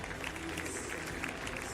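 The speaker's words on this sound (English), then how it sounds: "a rapturous applause is the crowd really just down below us, really enjoying that" Crowd applause in a dressage arena at a Grand Prix in Rotterdam, heard from a distance as a soft, continuous patter of clapping.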